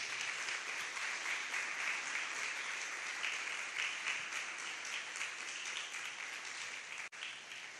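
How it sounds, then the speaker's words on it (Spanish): Sustained audience applause at a conference on the Esquisúchil tree, welcoming Fray Edwin to the front; even, moderately distant clapping from a seated crowd that holds steady for several seconds, with a brief dip near the end. "Voy a pedir que venga por acá y le damos un fuerte aplauso"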